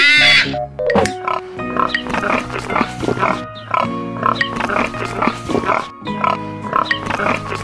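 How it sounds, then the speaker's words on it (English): A pig grunting and oinking in a rapid series of close, loud snorts and squeals that continue almost without pause. "P is for pig."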